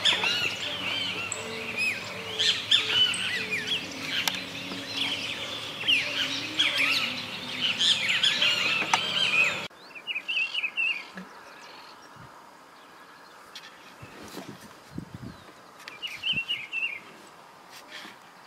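Calls of a nest-parasitic bird in an Argentine nature reserve near Esperanza: high chirping notes over dense insect and bird chorus at first, then a few isolated repeated call phrases against a quieter background.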